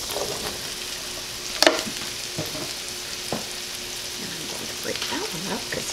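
Sliced mushrooms frying in a pan, a soft continuous sizzle with a sharp clatter early on and scattered light knocks, close and without talk.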